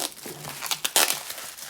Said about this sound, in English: Now I can peel back the plastic.